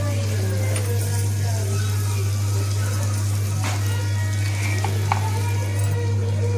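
Green chillies and chopped tomatoes fry in a pan with a constant close sizzle over a steady low hum, broken by a few light clicks of a utensil.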